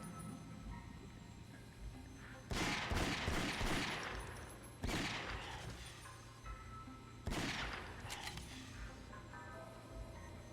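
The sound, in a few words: gunfire shooting rats in Ghosthunter video game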